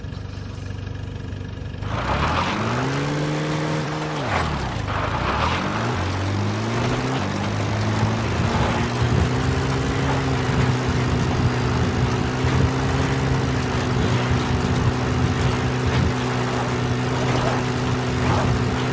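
Support helicopter in Metal Gear Solid V: The Phantom Pain arriving, its rotor and engine drone rising and bending in pitch before settling into a loud, steady hum that runs throughout.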